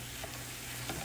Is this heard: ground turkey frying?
yes